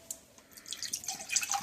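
Liquid pours into a cooking pot for birria oxtails, a quiet trickle and dripping that builds into a steadier, louder splashing stream over a couple of seconds, heard alone without talk.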